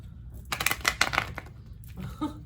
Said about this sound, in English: we're shuffling it.